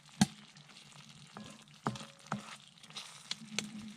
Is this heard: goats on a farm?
no